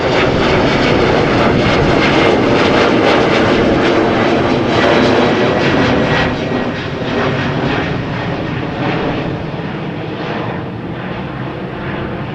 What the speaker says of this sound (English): And after the E2 Embraer 195 comes a regular Embraer 190.